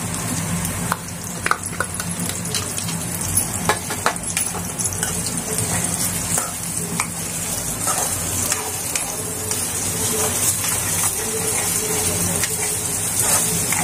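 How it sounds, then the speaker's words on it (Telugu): Onion and potato pieces fry steadily in a pan for a potato egg omelette, a continuous close sizzle with occasional stirring scrapes and clinks throughout, no talking. "అందుకని చెప్పేసి కొద్దిగా ఫ్రై చేస్తుంది."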